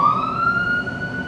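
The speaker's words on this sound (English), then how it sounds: "Wait for the siren to go by." Passing emergency vehicle siren, a loud steady tone with a slight downward pitch glide, heard alone over street noise.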